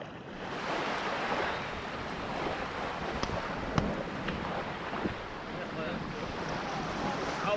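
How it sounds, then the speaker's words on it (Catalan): Choppy sea slaps and churns around a kayak off Menorca, a continuous rough wash of water with wind buffeting the microphone and a few sharp splashes standing out. "L'aigua es mou molt, és molt caòtic."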